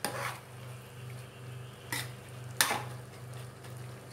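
Rice and butter bean mixture stirred in a cooking pot: a few scraping clinks of a spoon against the pot, two sharper knocks standing out over a steady low hum, no talking.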